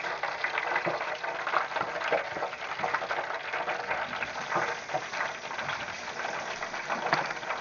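Potato chips frying in a chip pan of hot oil, a dense, steady bubbling crackle that holds evenly close by with no pauses.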